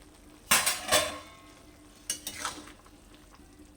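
A metal lid lifted off a pot of simmering vegetable chhyachra, giving two short clattering knocks, close and fairly quiet, over a soft kitchen background with no talking.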